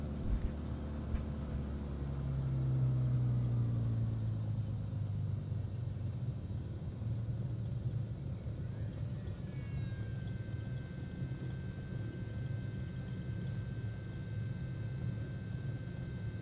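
A Cirrus SR-22 in Flight Simulator 2020 runs up to full power for takeoff, a deep rumbling engine drone that swells early then holds steady as a loud, continuous roar, with a thin whine rising partway through; no talking.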